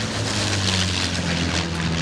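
A 1945 Avro Lancaster B1 four-engine bomber flies past, producing a loud, sustained propeller drone with steady humming engine tones close overhead.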